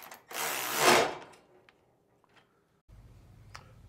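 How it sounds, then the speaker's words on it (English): Ratcheting tool tightening the bolt that positions the spring mount on a Wright Stander X 52-inch mower: one loud, close burst of metallic cranking, then faint scattered clicks and a low rumble at the end. "we're going to go ahead and tighten up this bolt that positions our spring mount"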